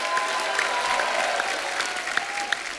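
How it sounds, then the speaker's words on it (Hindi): A studio audience at a TV comedy show claps in a loud, even burst of applause that fills the short clip without pause. "जोरदार तालियां डॉक्टर साहब के लिए।"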